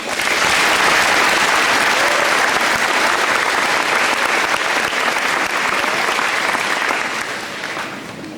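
A crowd at a high school graduation ceremony claps loudly and continuously, a dense even roar of applause that holds steady before tapering off near the end.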